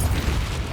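Confringo, the fiery blasting spell in the video game Hogwarts Legacy, lands as a short, dense, rumbling boom with crackling noise, loud and close, lasting under a second.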